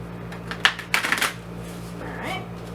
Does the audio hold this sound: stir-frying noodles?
no